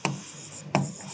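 Writing on a board during an English grammar lesson: two short, scratchy strokes, close and distinct, separated by a brief pause.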